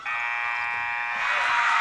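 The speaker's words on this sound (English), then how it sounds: "She beats the buzzer on the run out." A high school girls' basketball game-clock buzzer at a CVC Tournament gym, one loud steady electronic drone lasting nearly two seconds and swelling slightly toward the end.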